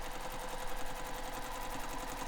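A sewing machine running long basting stitches along the raw top and bottom edges of a fabric beach bag, giving a faint, continuous, even mechanical whir with a fine rapid rhythm.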